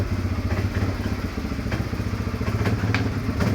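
A quad bike engine runs close by while reversing, a loud steady low rumbling putter with occasional clanks and thuds over it.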